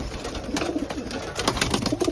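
Pigeons in a racing pigeon loft with young birds coo softly and repeatedly at close range, low throaty calls rising and falling alone over a steady background hum.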